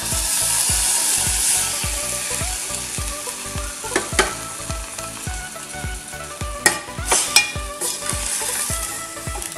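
A spoon stirs a curry of boiled black lentils in a pan, making steady rhythmic scraping strokes over a soft sizzle, with a few louder clinks near the end and no talking.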